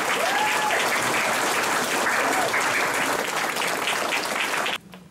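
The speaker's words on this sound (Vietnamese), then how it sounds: "chúng tôi xin quý vị cho một tràng pháo tay thật lớn để chúc sức khỏe chúng ta" An audience at a large formal reunion gathering in Paris breaks into loud, sustained applause that fills the room for several seconds, then cuts off abruptly.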